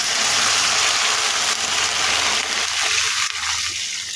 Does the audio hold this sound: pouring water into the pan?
yes